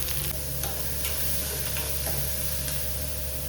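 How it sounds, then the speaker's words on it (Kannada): Onions and mustard seeds frying in hot oil for a hagalkai fry, a loud continuous crackling sizzle with small popping ticks throughout, close up and without talk. "ಸೊ ಇಲ್ಲಿ ಎಣ್ಣೆ, ಸಾಸಿವೆ ಮತ್ತು ಈರುಳ್ಳಿ"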